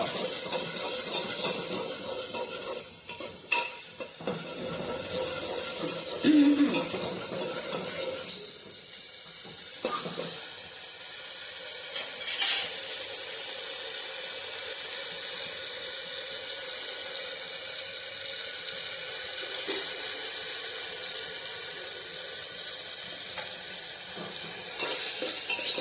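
Chopped tomatoes simmering and sizzling in oil in a pan for a Gujarati cowpea (chori) curry, a steady soft bubbling hiss with occasional stirring clatter, close and continuous throughout.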